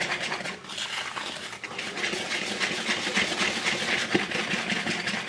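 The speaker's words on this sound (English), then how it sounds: "Let's whisk this together." A whisk beats dry gingerbread cookie ingredients, spices, baking soda and baking powder, in a bowl: a fast, continuous scratchy rustle, close and fairly quiet, with no talk.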